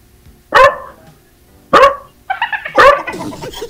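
A dog barks three times, loud and close, with spaced sharp barks, the last one followed by a short burst of yips and whimpers.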